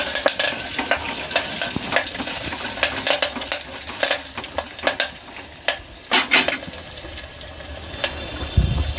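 Curry leaves splutter and crackle in hot oil with dried red chillies for tempering a kanji charu broth, with dense close sizzling and sharp popping bursts, plus a few utensil clinks and no talking.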